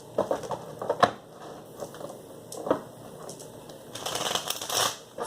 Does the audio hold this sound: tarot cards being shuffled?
yes